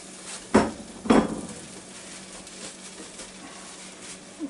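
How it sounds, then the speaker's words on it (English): Chicken wings dropped into a hot Ninja Foodi grill bowl give two sharp thuds close together near the start, followed by faint rustling and a soft sizzle. "I'm going to dump these wings right down in there."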